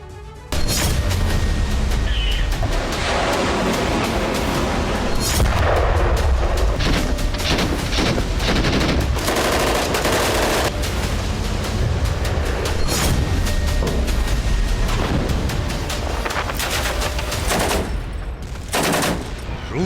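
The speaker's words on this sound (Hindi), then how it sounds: "तोप और गन से लाइव फायरिंग हो रही है।" Russian naval cannons and guns fire live at sea in rapid bursts of sharp shots and heavy booms, loud and repeated over about twenty seconds, with machine-gun-like rattles between the bigger blasts.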